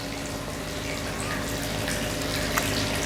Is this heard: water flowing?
yes